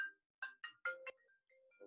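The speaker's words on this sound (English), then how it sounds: "me turn this phone off." A phone ringtone playing a short, bright melodic run of four or five electronic tones, faint and clean against near silence.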